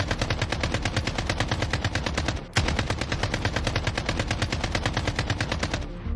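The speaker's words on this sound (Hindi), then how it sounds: "उससे पहले ही पुलिस ने AK-47 से ताबड़तोड़ फायरिंग शुरू कर दी" AK-47 rifle fire in long, rapid automatic bursts, loud and close, with sharp evenly spaced shots, a short break near the middle, then another sustained burst that cuts off abruptly.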